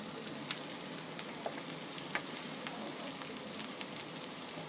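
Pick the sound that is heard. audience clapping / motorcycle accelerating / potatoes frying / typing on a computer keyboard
potatoes frying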